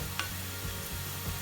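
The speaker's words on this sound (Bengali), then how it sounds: "বারবার নেড়ে চেড়ে দিতে হবে" Onions and garlic fry in a pan while being stirred, a quiet, even sizzle with a few soft scraping strokes and no voices.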